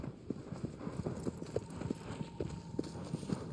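Horse galloping in the video game Shadow of the Colossus: a steady run of clip-clop hoofbeats, close and evenly paced, repeating for the whole stretch over a faint background hum.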